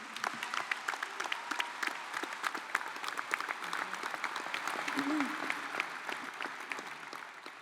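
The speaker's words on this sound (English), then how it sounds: "Let's give her a warm round of applause and welcome her to the podium." A university commencement audience gives a graduating student speaker a warm round of applause as she comes to the podium, sustained crisp clapping from a large crowd with some voices mixed in.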